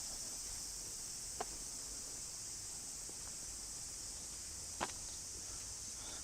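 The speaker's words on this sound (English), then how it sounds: "Cicada orchestra, huh? I do love the sound." A steady, shrill cicada drone hums without pause throughout at Korakuen garden in Okayama, Japan, with a couple of faint clicks standing out briefly.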